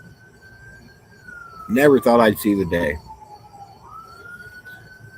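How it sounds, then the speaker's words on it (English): A distant ambulance siren wails steadily, its pitch slowly gliding down then rising again, with a person talking briefly over it midway. "that was an ambulance going somewhere"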